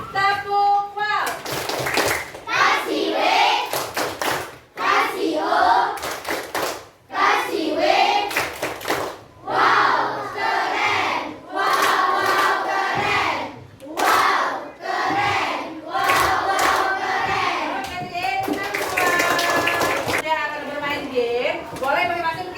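Schoolchildren in an Indonesian classroom perform the 'tepuk wow' clapping chant, with bursts of rhythmic hand claps alternating with loud group chanting voices, repeated several times.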